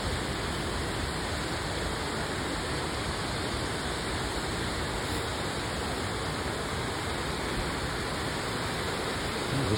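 Waterfalls in Rastoke village, Croatia, rush in a steady, broad wash of falling water that stays loud and unbroken throughout, with no voices.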